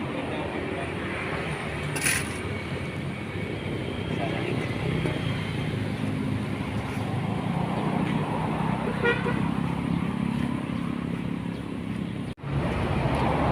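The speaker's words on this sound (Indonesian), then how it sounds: "Suasana di sini memang sangat bising karena berada di pinggir jalan besar seperti ini." Busy traffic along a large roadside keeps up a steady, noisy roar of passing vehicles, with a short horn toot near the start; the sound is continuous and moderately distant.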